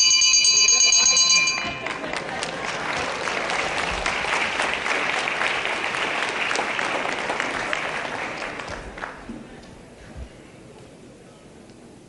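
A wrestling ring bell clangs briefly at the start of a televised wrestling bout, then gives way to loud crowd applause and noise that runs on and fades out.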